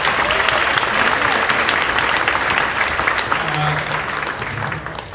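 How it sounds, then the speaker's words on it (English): Audience at a middle school winter concert applauding after a choir performance, a loud, continuous burst of many hands clapping with some cheering mixed in, tapering slightly toward the end. "Another round of applause."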